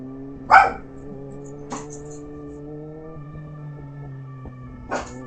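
A dog barks once loudly nearby, then gives two fainter barks spread over a few seconds, while a steady low hum runs underneath.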